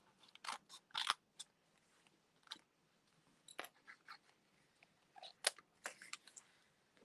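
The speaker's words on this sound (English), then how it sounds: "Snips here. And this, we're going to cut right out of here." Sharp snipping cuts from metal snips, a series of brief, crisp clicks and crunches spaced irregularly, some in quick pairs, fairly close and quiet with no talking.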